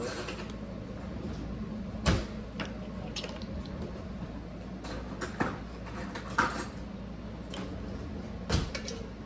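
Oyster mushrooms being cut into chunks with a knife on a board, a few distinct thuds and squishy chops spaced irregularly over steady low room noise.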